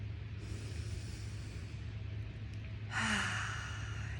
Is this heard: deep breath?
yes